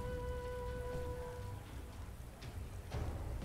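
Steady rain patters in Divinity: Original Sin 2, a dense even hiss with scattered drop impacts, heard alone with faint tonal game sounds at the start.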